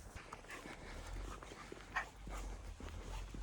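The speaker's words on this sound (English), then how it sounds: "These ones spent a bit of time barking, so I'm not going to go and say hello." Several small dogs in China barking and whimpering at a distance, faint intermittent yelps over a low steady background rumble.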